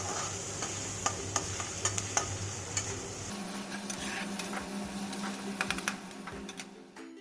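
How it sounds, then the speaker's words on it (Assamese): Onions fry in a pan for a home-style chicken curry with lai greens, a steady soft sizzle broken by frequent sharp spatula ticks and scrapes. The texture thins partway through as stirring continues. "পিঁয়াজখিনি ভাজি হৈ গৈছে প্ৰায়।"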